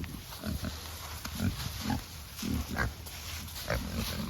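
Pigs on a farm in cold weather, grunting and snuffling in short repeated bursts close by, over a steady background hiss.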